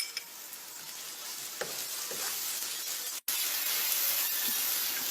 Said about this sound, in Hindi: लहसुन अदरक की पेस्ट डाल के 1 मिनट कर लेते हैं।